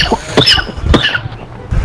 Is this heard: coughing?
yes